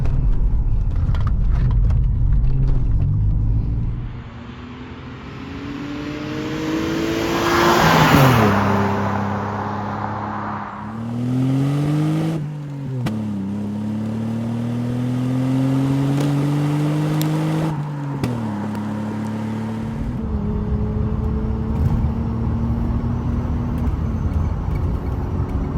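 A 1989 Vauxhall Carlton GSI 3000 24V accelerates through several gear changes, its engine note climbing in repeated rising sweeps, then settling into a steadier cruise, heard close from inside the car.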